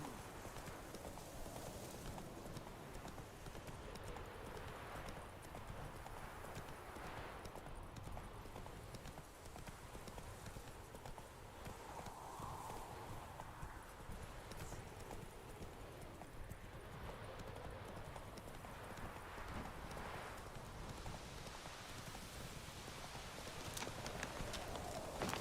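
Roach the horse's hooves clip-clop in a steady walking rhythm in The Witcher 3 game, quiet and continuous under soft ambient outdoor wind.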